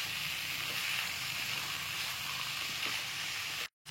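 Mixed winter vegetable curry with chopped coriander sizzles steadily in a pan while being stirred, a continuous close frying hiss with faint scraping, cutting off briefly near the end.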